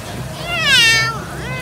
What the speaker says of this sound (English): You see that kitty cat?